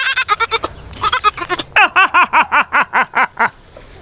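A person imitates a goat's bleat, giving a quick run of laughing, giggly bleats followed by a steady series of about nine wavering, nasal bleats, loud and close.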